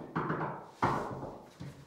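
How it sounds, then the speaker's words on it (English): A dog knocking on hotel room doors in Chamonix, three dull thuds spaced apart, fairly close, in an otherwise quiet corridor. "Oh, Dipper, you've knocked on two people's doors, mate."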